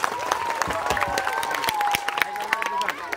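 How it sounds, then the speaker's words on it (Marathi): Audience applause for Riya Hatmod at a Marathi school event, steady clapping with a faint sustained tone or voice running underneath, moderately loud throughout. "रिया हातमोड हिच्यासाठी एकदा जोरदार टाळ्या होऊ द्या"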